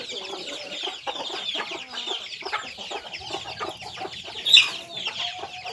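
A Burmese gamecock about twelve to thirteen months old clucks and calls in a breeding pen, a run of close, choppy clucks with one sharper squawk near the end, amid other birds around.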